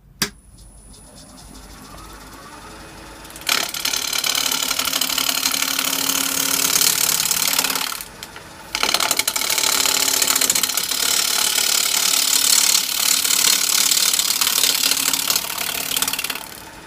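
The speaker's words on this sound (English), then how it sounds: "when I'm cutting this, I find the best way to get the right cut is if you put your gouge on facing upwards like that and gradually pull it down" A wood lathe spinning a natural edge bowl blank while a gouge cuts into it. The machine starts up, then a loud, continuous rough cutting roar follows, which breaks off briefly partway through and then resumes close up, with no talk.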